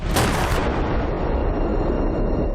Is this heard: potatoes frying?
no